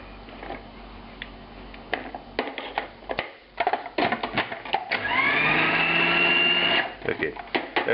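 A food processor grinds a meatball mixture with salt and MSG, a steady whirring motor hum that rises to a sustained loud whine, after earlier intermittent pulses and clatter.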